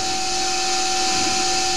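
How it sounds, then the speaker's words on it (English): A CNC lathe parting tool chamfering and then facing a brass workpiece, a loud continuous machine whine with steady tonal hum and cutting noise throughout, no voices. "the parting tool's putting on, and then facing it off"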